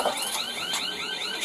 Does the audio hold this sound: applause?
no